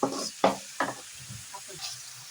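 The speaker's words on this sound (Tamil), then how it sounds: "அதனால் இறா நல்லா வதங்கணும்" Prawns sauté in a pan for prawn thokku, giving a few separate scraping stirs and soft bursts of sizzling, close by and fairly quiet, with gaps between them and no talking.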